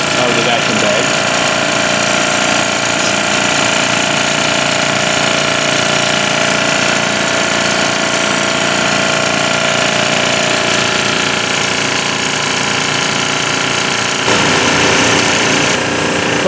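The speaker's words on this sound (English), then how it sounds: "We're sucking the air out of the vacuum bag." A vacuum pump runs steadily and loudly while evacuating a vacuum bag over a composite layup, a dense continuous mechanical drone with no breaks, the tone shifting slightly near the end.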